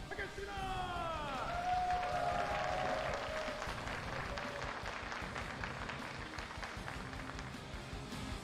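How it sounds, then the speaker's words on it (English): Applause and some cheering rise from a live audience at an esports tournament semi-final, fairly faint and distant, and the crowd's clapping gradually fades while a voice speaks over it. "Please give a warm round of applause as we start today's semi-finals game."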